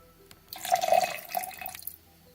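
Lime juice is poured for a gin Rickey cocktail, a short close splash and trickle of liquid rising and fading over about a second and a half in a quiet room.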